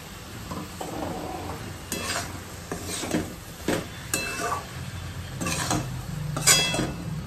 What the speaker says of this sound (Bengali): এখন ভাজি, এটা ভাজলে এই পোস্তটা রেডি হয়ে যাবে।